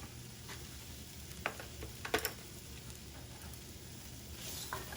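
Shrimp balls sizzling in a cast iron pan for ramen and being tossed around, a soft steady fry broken by a few brief scrapes and clatters, quiet and close.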